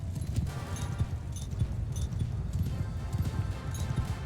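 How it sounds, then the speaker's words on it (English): Rapid, overlapping hoofbeats of horses galloping in the video game Mount & Blade II: Bannerlord, a steady rumbling clatter that continues throughout at moderate loudness. "I think those horses might be running"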